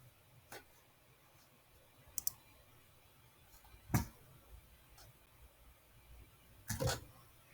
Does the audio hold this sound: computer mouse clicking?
yes